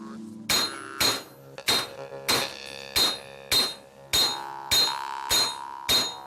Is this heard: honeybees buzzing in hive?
no